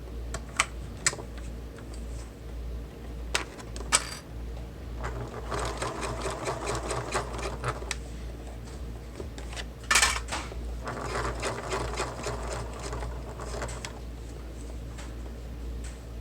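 A sewing machine bastes a seam on a fabric bag, running in a rapid rhythmic clatter of stitches. Several sustained runs are broken by brief stops and a few sharp clicks, close by and with no talking.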